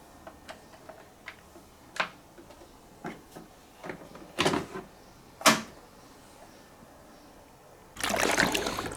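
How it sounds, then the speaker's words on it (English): Plastic clicks and knocks from opening the side slide door of a Siemens EQ.300 coffee machine and pulling out its brew unit, a string of sharp taps and snaps followed by a louder, longer scraping rattle at the end. "Open the slide door and remove the brew unit."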